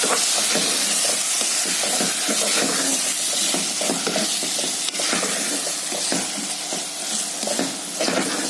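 Washed, drained rice sautéed over chicken livers in a hot pan, a steady close sizzle and hiss with the scrape and clatter of stirring throughout, no voices.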